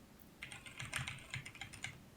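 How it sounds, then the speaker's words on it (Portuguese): Fingers type on a computer keyboard in a quiet room, a quick, uneven run of soft keystroke clicks lasting about two seconds with no voices. "O teclado, por exemplo, é um barulho de impacto"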